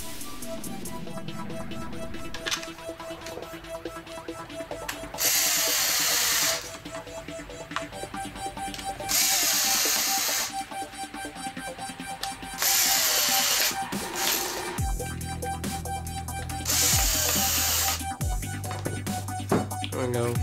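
A power screwdriver drives screws into the case of an Andis AG hair clipper during a refurbish. The motor whirs in several long bursts separated by short pauses, and there is a lower grinding near the end, close and loud with no talk.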